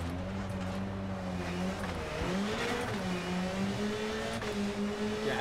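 Rally car engine from WRC 10 played on a direct drive wheel, droning steadily and loudly throughout with revs shifting up and down, a sharp dip near the middle, and rough road and shaking noise underneath.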